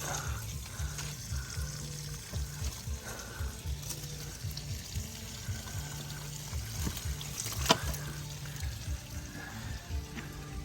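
A koi pond's filter pump sends a steady stream of running water through a three-barrel filter setup outdoors, a continuous trickling and splashing with a low rhythmic pulsing underneath, close and unbroken, no one speaking.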